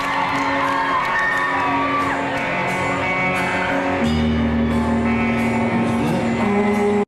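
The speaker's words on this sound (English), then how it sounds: "Yay, the song's over, they all cheer." A concert audience cheering and whooping after a song, a sustained loud crowd roar with shouts and yells on top, steady for several seconds.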